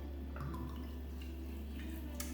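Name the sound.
pouring vodka onto plant material for tincture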